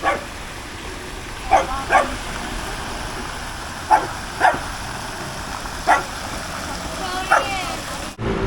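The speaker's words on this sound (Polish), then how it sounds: "Pieski chłodzą się tutaj w wodzie." Dogs cooling off in water in a public park in Tbilisi, with repeated short splashes and barks spaced through the scene over steady flowing water and a busy outdoor background; faint voices around.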